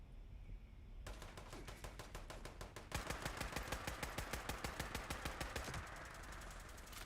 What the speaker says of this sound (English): Here's some gunfire.